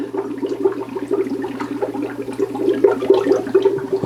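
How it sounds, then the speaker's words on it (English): Air bubbling steadily in a shrimp aquarium: a continuous gurgling, burbling wash with small pops over a low constant hum, close and fairly loud. "Sorry for the bubble noise."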